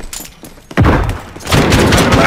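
Bursts of gunfire and heavy booms from the Call of Duty: Warzone battle royale on Rebirth Island, a loud volley opening after a short quiet lead-in and then sustained, dense firing with no talk.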